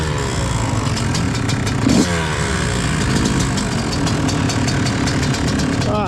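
A two-stroke motocross motorcycle engine revving at a race weekend track, with a buzzy, raspy note that rises and falls through repeated throttle blips, loud and close, and other engines sounding in the background.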